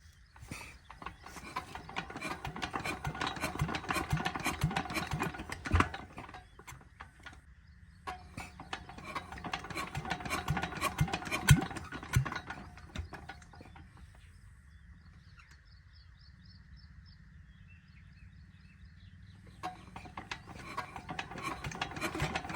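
A Peter diesel engine on a tubewell being cranked to start after a long idle period, with repeated mechanical clanking and ratcheting bursts that rise and fade, then a quieter stretch before cranking resumes.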